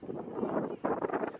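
Wind gusts buffet the microphone at a flower farm in Taiwan in a steady low roar, easing briefly before blowing again.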